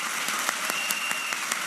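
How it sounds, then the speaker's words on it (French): A church congregation claps in rhythm during a sermon, with sharp, evenly spaced claps, close and lively, and no voices over it. "Applaudissez pour le Saint-Esprit."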